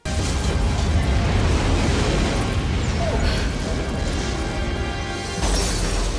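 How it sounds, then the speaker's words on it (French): A spaceship blows up the Bank Tower in a film explosion, a dense, sustained roar of blast and crashing debris that rumbles loudly and continuously, with a fresh surge near the end. "le vaisseau fait péter la Bank Tower"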